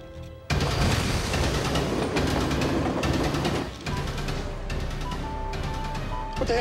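Freight train approaching on rails, a dense, loud rumble and rattle that starts abruptly and holds steady throughout, with metallic clatter and a faint tonal whine or horn near the end.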